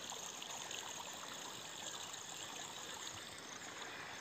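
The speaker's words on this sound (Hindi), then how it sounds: "इतना चारों बगल से पानी बह गया है एकदम, पूरा ऊपर के खेत के पानी इधर ही आ जा रही है" Rainwater runs off higher farm fields and pours through a breaking earthen embankment, making a steady rushing, trickling flow heard at moderate distance without pause.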